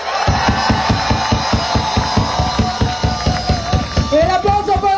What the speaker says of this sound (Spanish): ¡El aplauso para el Zombie Bob!